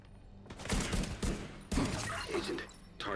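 Several loud, close bursts of gunfire rattle in a PvE shooter game, coming in two or three rapid volleys with brief gaps between them.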